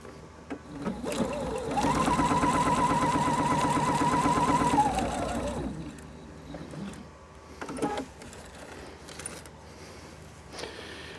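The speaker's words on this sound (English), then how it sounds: "The very first thing we're going to do is sew a regular straight stitch seam." A sewing machine runs a regular straight stitch seam, a loud, even motorized rattle lasting several seconds before slowing and stopping, followed by a few faint clicks and handling noises.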